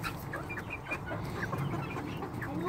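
Chickens clucking close by in a backyard flock: repeated short, choppy clucks over a steady low background, moderately loud and continuous, no talking.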